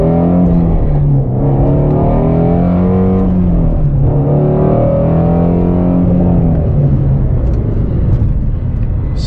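A Shelby GT350 Mustang fitted with a K&N intake accelerates hard, its engine revving up loudly through the gears with rising and falling pitch sweeps, heard from up close.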